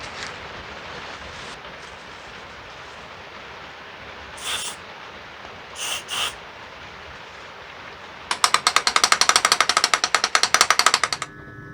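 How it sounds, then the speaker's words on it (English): An aerosol lubricant is sprayed into the idle control valve of a BMW 3 Series, with two short hissing bursts followed by a longer run of rapid, sharp clicking or rattling close by. "Might put a bit of lubricant in there."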